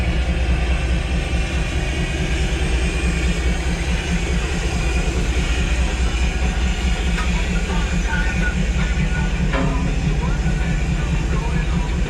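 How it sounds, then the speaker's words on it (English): A Thomas the Tank Engine steam train at the Strasburg Rail Road in Pennsylvania rumbles steadily as it readies to depart, a loud continuous low drone with faint clanks near the end. "I believe the train might be getting ready to take off again"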